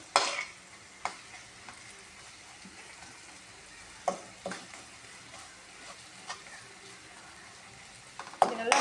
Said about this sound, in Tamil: நம்மளுக்கு வந்து நல்லா வதங்கிடுச்சு வெங்காயம் தக்காளி எல்லாமே